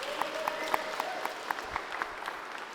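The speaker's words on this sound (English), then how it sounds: "please, round of applause for Yum Brands" Audience applause for Yum Brands in their building during a night of AI talks, a fairly quiet spread of clapping with a few sharper individual claps and a faint cheer, heard somewhat distant.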